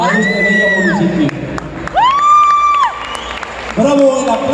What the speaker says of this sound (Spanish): el aplauso para el equipo de los Guerreros 614